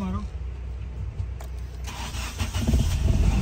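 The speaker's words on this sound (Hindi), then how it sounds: "अभी देखें, गाड़ी अल्हम्दुलिल्लाह हमारी स्टार्ट हो गई है" A Nissan Sunny car's engine cranks and fires up after a relay replacement, a short burst of starter grinding that catches into a running engine, close by, with someone talking over it.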